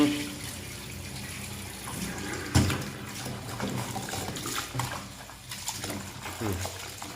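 Black glutinous sticky rice being rinsed in water, with sloshing and running water close by while someone talks over it in Thai.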